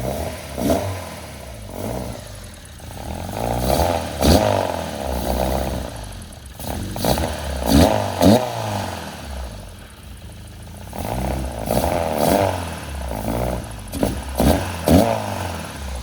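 A Honda Integra with a K24 engine and 65mm individual throttle bodies, tuned rich and running rough, starts and idles unevenly with loud, lumpy rising and falling revs and sputtering close by, no voices.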